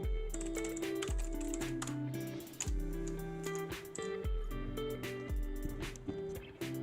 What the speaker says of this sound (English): Can you hear me type on the keyboard